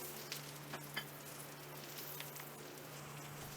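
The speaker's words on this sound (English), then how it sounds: "We're going to get our Brussels sprouts going in the hot pan with the residual fat that's left in there." Brussels sprouts sear in a hot pan with leftover pork chop fat, giving a faint, steady sizzle with a low hum underneath and a couple of small ticks and pops.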